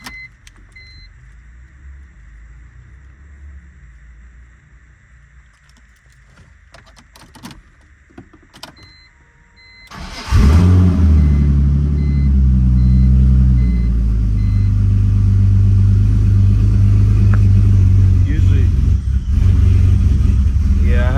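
BMW E46 drift car with a rebuilt vanos and suspected intake leak: after a quiet stretch of small clicks the engine fires up at once and runs loudly and roughly, close by, with occasional voices.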